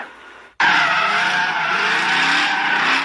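Cars skidding and squealing tires at a street sideshow of up to 600 cars at 42nd Avenue and 880 in Oakland, bursting in abruptly as a loud, sustained screech with engine roar, close by, with no talk.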